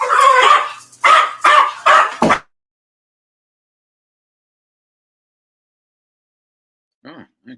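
Dog barking indoors at a house when someone arrives at the front door: four or five close, loud barks in quick succession, then a long silence and a couple of faint yips at the end.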